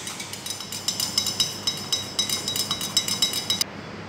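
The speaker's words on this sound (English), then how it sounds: "it has to be stirred well" Stirring reactive dye into a dye bath for viscose rayon, heard as a steady series of light clinking, scraping strokes, roughly two per second, close and fairly quiet, with no talk.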